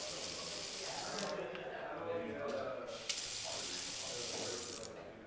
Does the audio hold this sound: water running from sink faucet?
yes